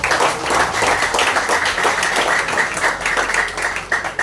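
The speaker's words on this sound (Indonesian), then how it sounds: "Tepuk tangan dong kalau setuju" Crowd at an Indonesian political speech in Tapanuli Tengah clapping loudly and continuously, a dense wash of applause close to the listener with a few voices mixed in.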